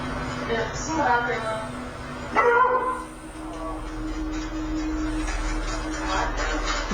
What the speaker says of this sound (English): The dogs all seem freaked out by something that is going on outside the house.